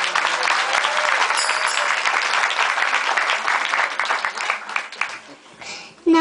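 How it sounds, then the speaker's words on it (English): A room full of guests applauds at a 65th birthday celebration with steady, dense clapping that holds strong for several seconds before fading, with a brief voice at the very end. "please give him a big round of applause"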